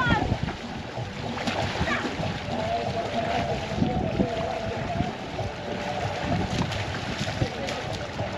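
People wade and splash into cold glacier meltwater on a busy Sunday, a continuous rushing slosh of water heard close with chatter and someone talking over it.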